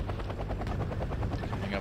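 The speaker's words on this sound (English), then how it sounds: "coming up, attack helicopter with anti-tank guided missiles, rocket pods" Attack helicopter armed with anti-tank guided missiles and rocket pods, heard in the Wargame: Red Dragon battlefield: a steady, loud rotor throb with rhythmic blade pulses, running the whole time.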